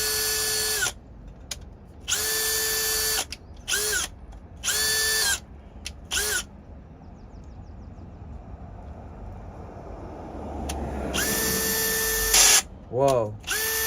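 A brushless Makita LXT cordless drill whines in several short bursts and one longer run, each spinning up and winding down, loud and close, with brief stretches of quiet outdoor background between them.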